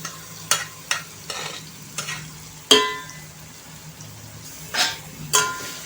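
Marinated soya chunks and potatoes sizzle in hot oil while a spoon stirs and scrapes the pan in several sharp, close strokes, a steady low fry beneath each one.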